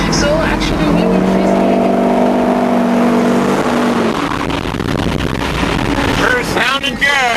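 A kit car engine rumbles low and steady nearby, droning under wind buffeting with a rising tone midway, while people talk over it.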